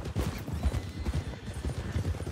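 A horse's hooves clip-clop steadily in a video game, a continuous close rhythmic trotting over a low rumbling game background.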